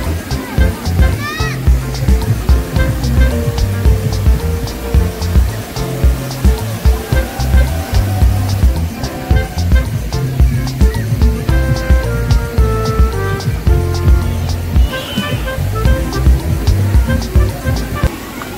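Waves in a water park wave pool at Mojoland in Sonipat, Haryana, surge and slosh continuously. The washing is mixed with crowd noise, splashing and voices throughout.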